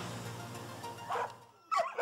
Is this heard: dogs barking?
yes